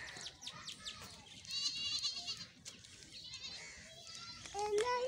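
Buffaloes and their calves in a village, with bleating animal calls rising over a busy outdoor background of children and voices throughout.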